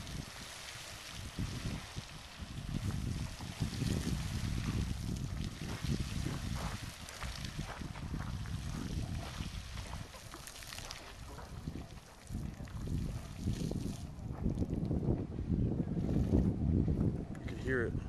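California's Old Faithful geyser in Calistoga erupts with a loud, continuous rushing roar of water and steam, broadband and surging in strength, with wind buffeting the microphone.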